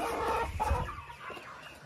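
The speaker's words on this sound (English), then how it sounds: "there's one of the adult chickens that wandered over here." An adult farm chicken clucks nearby in a short, soft run of low murmuring calls, with no voices.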